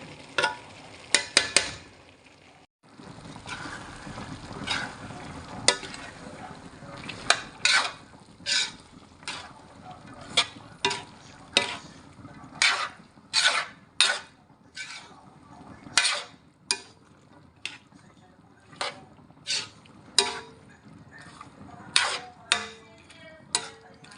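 Carrots and beans stirred in a pan for lumpiang hubad, a close run of quick, crisp scrapes and clicks from the utensil in a steady, uneven rhythm over a soft background hiss.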